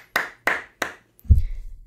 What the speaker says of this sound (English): I'll start clapping again